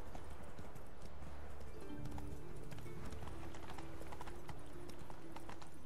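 Rapid, rhythmic hoofbeats of a galloping horse in The Witcher 3, steady and close, with a brief whinny layered in.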